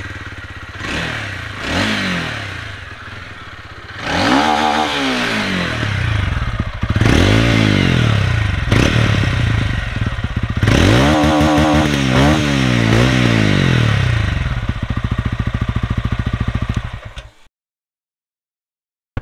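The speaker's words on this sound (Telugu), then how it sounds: "మీరైతే ఎగ్జాస్ట్ నోట్ అయితే వినండి, తర్వాత మనం రైడ్ అయితే చేద్దాం." A 2024 TVS Ronin 225 motorcycle idles and is revved repeatedly, its single-cylinder exhaust note rising in several loud, close blips before settling and cutting off, with no talk over it.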